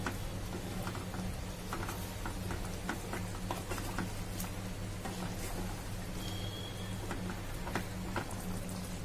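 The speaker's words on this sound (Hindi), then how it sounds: "इन सब मसालों को हम अच्छे से मिक्स करके अपने चिकन को थोड़ी देर और कुक कर" Chicken being stirred with yogurt, black pepper powder and spices in a pan, a steady soft scraping and stirring with faint sizzling under a constant low hum, no talk.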